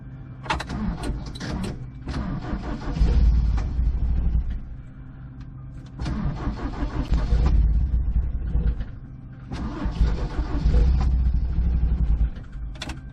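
A 1978 Toyota mini RV engine with a new Weber 32/36 carburetor cranks in three long bursts, each churning roughly for a few seconds with pauses between, never quite catching and settling into a steady idle.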